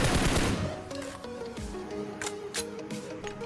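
Rapid bursts of automatic gunfire from the PUBG Mobile video game, a solo-versus-squad match, crackle in a dense volley that fades into scattered shots and echoing reports, with no voice over it.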